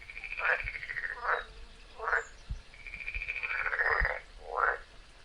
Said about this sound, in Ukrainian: Хто каже ква, ква, ква? Правильно, жаба.